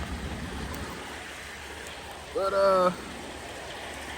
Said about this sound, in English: So it started raining again. A little bit heavier than it was before I went in.